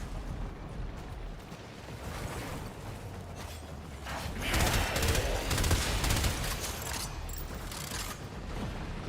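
Rapid gunfire from shooting in the AION 2 video game, a dense continuous fusillade of shots and game effects that swells louder midway and stays busy throughout.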